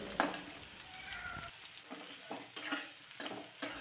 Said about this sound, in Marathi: थोडासा कांदा मी इथे परतून घेते.